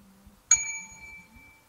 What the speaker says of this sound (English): Once again, we bing the bell at the number 69.